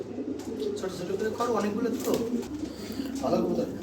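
Lahori pigeons coo softly in a low, rolling murmur, several calls close by, while a person talks over them.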